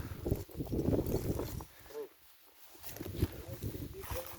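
Draft horse hooves clop on the ground amid rustling and nearby voices in a field, a loose walking rhythm close by with a brief lull in the middle.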